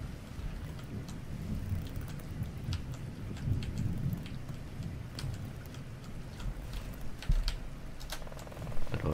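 Heavy rain pours steadily outside in the video game SORE, a constant hiss with low rumbling like distant thunder and a few sharper drops. It is fairly quiet overall, and no one speaks.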